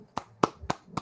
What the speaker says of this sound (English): Applause is for us for effort.